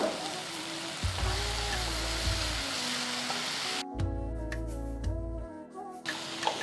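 Tomatoes frying in a pan with coriander and curry leaves added, a loud continuous sizzle with stirring scrapes, the hiss dropping briefly partway through before resuming.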